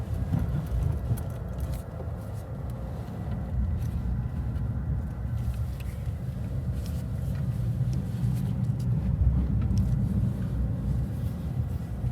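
A Ford Maverick Hybrid pickup drives slowly around a parking lot, heard from inside the cabin as a steady low rumble of engine and road noise with no voices.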